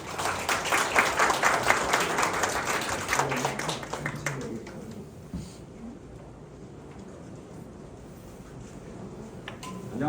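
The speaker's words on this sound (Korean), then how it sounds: "그럼 김성진 소장님을 큰 박수로 모시겠습니다." A seminar audience on farm data management applauds to welcome a speaker. Loud, dense clapping lasts about four seconds, then fades into a quiet room with a few scattered taps.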